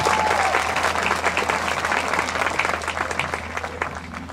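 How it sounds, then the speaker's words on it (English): Steady, dense audience applause fills a commencement ceremony hall, sustained clapping from a large crowd at even loudness with no talking over it, a low constant hum underneath. "I'd like to give one more round of applause to our valedictorian, Elizabeth Hess."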